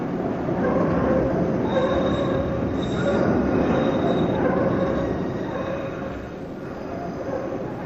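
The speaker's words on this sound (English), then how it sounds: "Chicago's elevated railroad, the L as it's known, is one of the most distinctive and defining features of the city centre." A Chicago elevated L train rolls past with a heavy rumble, its wheels squealing in sustained high tones as it runs along the track, loud and close throughout.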